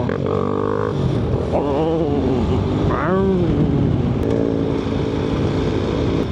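A motorcycle engine labours up a steep hill on a countryside ride toward a canyon, a loud continuous drone with rising and falling revs throughout, close to the microphone.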